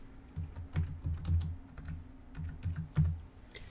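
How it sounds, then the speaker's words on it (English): A search for a poem is typed into Google Classroom on a computer keyboard: two bursts of brisk, close clicking keystrokes separated by a short pause, clear and unaccompanied. "So I'm going to type that in."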